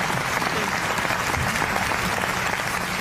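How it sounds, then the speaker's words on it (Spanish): A concert audience claps after a song, a steady, dense wash of applause at moderate volume, continuous and even for a few seconds with no voices standing out. "Mirá cómo te siguen aplaudiendo,"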